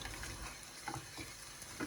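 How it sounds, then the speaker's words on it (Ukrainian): Mixture heating and melting in a sauté pan on the stove while being stirred with a wooden spatula, giving a steady low sizzle with soft scraping stirs throughout. "Ставимо на вогонь. Наша задача розтопити то все у сотейнику."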